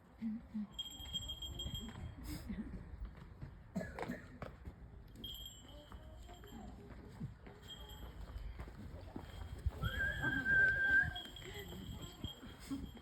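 A falconer's sharp whistle calls a trained bird from its perch during a Tudor falconry display at Mont Orgueil Castle, Jersey. One brief, bright whistle rises near the end over murmuring crowd talk and outdoor background noise.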